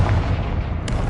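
The explosive Confringo spell going off in the video game Hogwarts Legacy, a loud booming burst with a dense rumbling tail and a brief sharp crack near the end.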